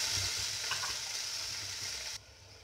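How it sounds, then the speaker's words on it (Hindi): Oil frying in a pan just before finely chopped tomatoes go in, a steady close sizzle with some stirring; the sizzle drops off sharply near the end. "इसे थोड़ा सा फ्राई करते हुए सिर्फ 30 सेकंड के लिए फ्राई करेंगे।"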